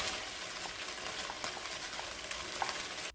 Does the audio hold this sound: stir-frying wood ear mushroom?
yes